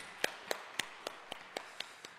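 A church congregation claps in thanks to God, with eight evenly spaced, fairly faint claps ringing out alone in a steady rhythm.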